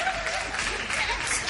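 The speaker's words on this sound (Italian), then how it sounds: "Un applauso a voi" Audience at a regional selection of the Il Bello d'Italia pageant in Panza d'Ischia applauding contestants, a short burst of dense clapping and crowd noise.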